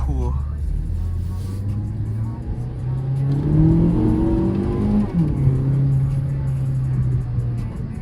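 A Mazda car accelerates hard from inside the cabin, its engine note climbing through the revs, dropping briefly at a gear change, then pulling again with a loud, close rumble.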